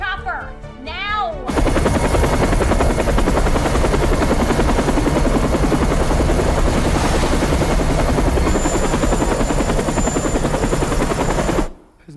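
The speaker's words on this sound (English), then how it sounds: "I need a chopper. Now!" A helicopter roars overhead, loud and close, its rotor thumping steadily for about ten seconds, starting abruptly after a brief moment of voices and fading out at the end.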